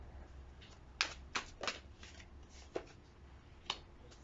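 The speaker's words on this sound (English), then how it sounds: "Okay, one more shuffle." A tarot deck shuffled by hand up close, a handful of crisp, papery riffles and slaps spaced irregularly over a quiet room with no talking.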